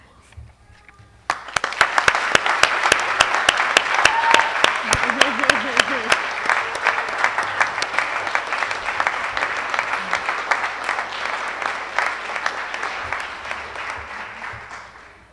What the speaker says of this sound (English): let's give a round of applause to the friends and family who are here to support you today